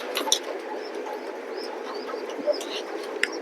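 Pigeons coo at a pigeon loft, soft low cooing calls repeated over a steady murmur of the flock, with a few brief chirps and flutters nearby.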